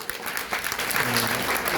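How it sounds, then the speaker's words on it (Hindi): Secondary school students in an Indore classroom break into brief, lively applause, a dense burst of clapping close by with a few voices mixed in. "बहुत बढ़िया, तालियां।"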